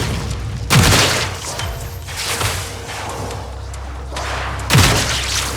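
Explosions in Warframe land as heavy, booming blasts, with two loud impacts separated by a few seconds and rumbling, crackling debris and mechanical noise between them.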